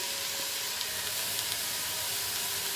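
Ground beef simmering in a pan for spaghetti meat sauce gives a steady, soft sizzle and hiss throughout, close and even, with faint clicks and no voices.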